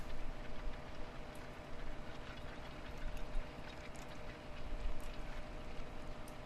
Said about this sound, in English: I think this tractor is definitely challenged somewhat pulling this cultivator.